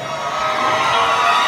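Live audience at a norteño music show cheering and clapping, a steady wash of crowd noise and whoops sustained at even loudness throughout, with no talk over it.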